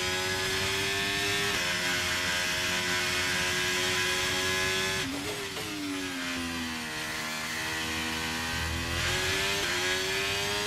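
A Formula 1 car engine in the F1 23 racing game screams at high revs through gear changes, a steady piercing whine that dips briefly at a shift, then climbs again, loud and continuous without voices.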